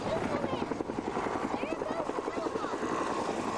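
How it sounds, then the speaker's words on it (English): A rescue helicopter passes overhead during an Alabama snowstorm, its rotor thudding in a steady rapid chop that stays loud throughout while people talk nearby. "There goes the rescue helicopter."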